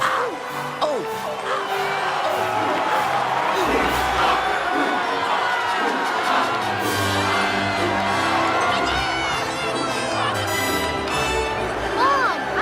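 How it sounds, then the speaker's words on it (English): A big crowd cheers and whoops after Anakin wins the podrace, a loud, continuous wall of shouting and excited voices, with individual cries rising and falling throughout the roar. "The crowds are going nuts!"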